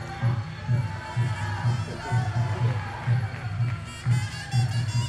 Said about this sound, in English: you can hear the cheers from the crowd encouraging the athletes to keep pushing on